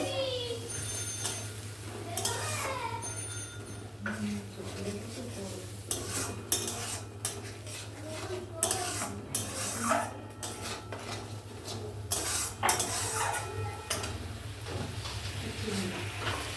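A utensil scraping and clinking in a pan while coconut poppy-seed paste is stir-fried with salt and turmeric, irregular metallic taps and scrapes over a steady low hum, with background voices and a ringing tone.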